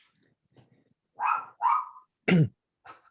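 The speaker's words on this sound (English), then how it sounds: "if your dog is going to continue to bark" A dog barks several times during an online meeting, three loud close barks in quick succession followed by a softer one, with faint background noise between them.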